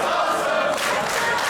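A wrestling crowd at a live El Phantasmo vs. Senza Volto match keeps up a loud, sustained roar that fills the space evenly, with no individual voice standing out clearly.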